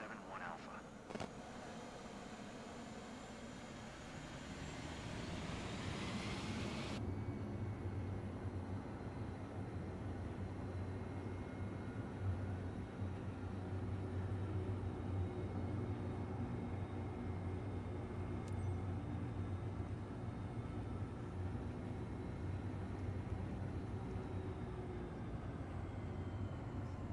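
An aircraft taking off from runway 27 in Microsoft Flight Simulator 2024 on PS5 Pro: a fairly quiet, steady engine drone that swells after a few seconds and holds a constant roar.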